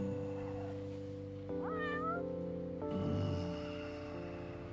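A stray cat meows once in the Yakuza 6 video game, a single rising, wavering cry heard close over a steady background music drone, followed by a brief soft rustle.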